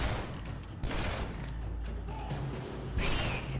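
Continuous gunfire in the shooter game Shadow Warrior, a dense, loud barrage of shots with heavier bursts near the start and end, no voices over it.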